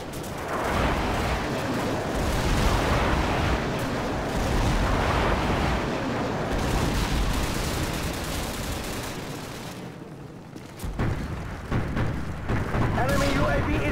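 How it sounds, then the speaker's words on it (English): Airstrike blasts during Call of Duty 4: Modern Warfare team deathmatch on Crossfire, a thick continuous rumble of booms and gunfire, loud throughout with a brief dip before resuming, with voices in the mix. "Friendly airstrike on the way."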